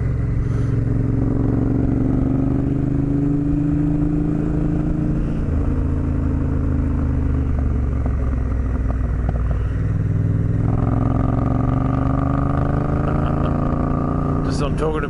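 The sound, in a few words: motorcycles riding, a Yamaha Tenere passing on the outside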